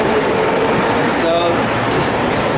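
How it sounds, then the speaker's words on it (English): A subway train rides along with a steady, loud rumble and rolling wheel noise filling the carriage throughout. "back on the subway now."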